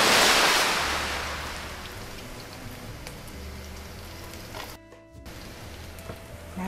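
Garlic hits three spoonfuls of hot cooking oil with a loud burst of sizzling that settles into a steady, crackling fry with small pops, heard close up and without talk.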